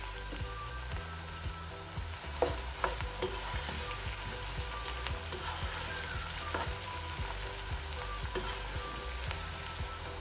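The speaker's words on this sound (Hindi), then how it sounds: "इसको बस हल्का सा फ्राई कर लेंगे।" Garlic-ginger paste frying in a pan gives a continuous close sizzle, with scattered scraping clicks of stirring throughout.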